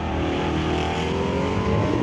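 Drag race cars, including a 1968 Chevelle, launching hard off the line at an NHRA Summit ET Series event in Mission, a loud sustained engine roar filling the whole moment with no talk.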